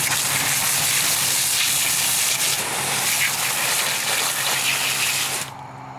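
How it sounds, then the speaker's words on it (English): A garden hose sprays water in a steady, loud hissing gush for several seconds close by, cutting off abruptly near the end. "We'll take a garden hose."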